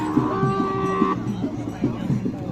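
A Khillar cow lets out a long, low moo close by, with other lowing and background murmur from a crowded cattle exhibition.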